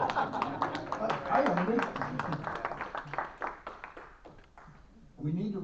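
An audience at a Liberty Tea Party Patriots meeting breaking into scattered rhythmic clapping that thins out, while someone talks over it.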